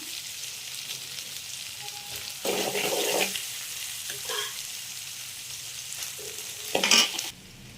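Cooked matta rice being added to a pan of tempered lemon rice seasoning and stirred, a low sizzle with scraping and tumbling bursts of spoon mixing that swell and fade.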